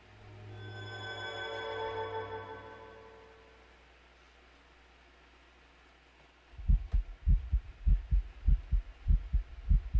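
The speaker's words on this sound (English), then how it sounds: "Still hate hearing the heartbeat." Heartbeat in the horror game Roblox Apeirophobia, heavy low thumps in a steady doubled rhythm growing loud and close after a fading droning tone and a quiet pause.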